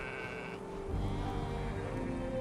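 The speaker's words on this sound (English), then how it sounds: "We have predominantly merino sheep and farm them for their wool." Merino sheep bleat on a wool farm over a steady rumble of background noise, with a few overlapping calls close by and no talking.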